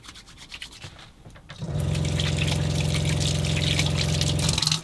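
Soapy hands scrubbed together under running water at a sink, a steady close rubbing and splashing wash that starts after a short quieter lead-in and runs evenly to the end.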